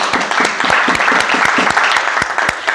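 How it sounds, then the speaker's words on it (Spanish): A church congregation applauds during a service, loud, dense clapping with sharp individual hand strikes standing out, continuous and close throughout. "Démosle ese aplauso al Señor."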